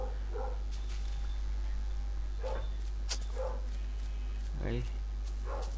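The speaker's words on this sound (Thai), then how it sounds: "หมาบ้านผมมันเห่าอะไรไม่รู้แป๊บนึง" A pet dog barking in a house, picked up behind a Minecraft gameplay session: several separate barks come through the whole stretch over a steady low hum, with a short spoken exclamation near the middle.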